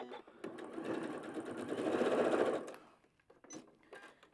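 Sewing machine stitching Kraft-Tex paper fabric, a close steady mechanical whir lasting a couple of seconds before stopping, followed by a few faint clicks and handling sounds.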